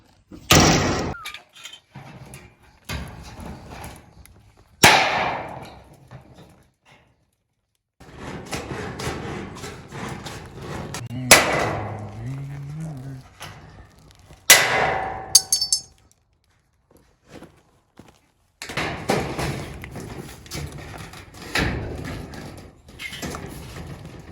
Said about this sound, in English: So we'll cut it there, notch the rib out, and then bend it up a 7/8 inch at the top.